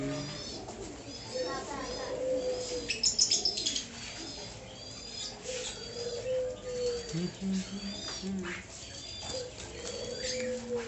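Jacobin pigeons in a home pigeon loft coo softly amid scattered chirps and a brief flutter of wings, while a person talks nearby throughout.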